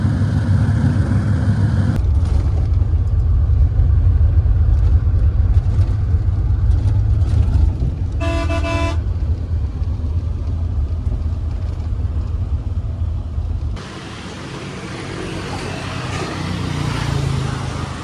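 Steady low engine rumble and road noise inside a moving sleeper bus in Vietnam, continuous throughout, with a brief tonal beep partway through and a slight drop in level near the end.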